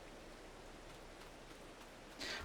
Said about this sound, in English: We've got some rain now.